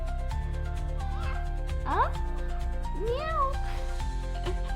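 A voice imitates a cat, giving two drawn-out meows over a steady low hum.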